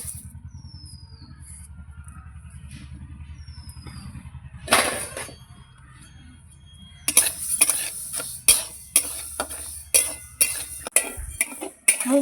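Moong dal frying in a wok over a stove: a low steady hum at first, then a burst and a run of sharp metallic scrapes and clinks from stirring, close and fairly loud.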